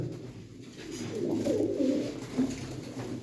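Pigeons coo softly nearby in a loft, a few low, rounded, rolling calls repeating over a quiet background.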